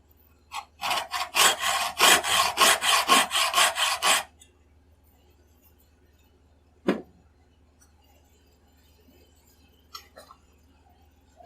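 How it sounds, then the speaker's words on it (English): A hacksaw deepens a screw slot in the wooden stock of a Mannlicher 1888/90 rifle, giving about a dozen quick, loud rasping strokes in steady rhythm over four seconds, followed by a single knock and faint handling noises. "Then I'll get the hacksaw out to deepen the slot just a little bit."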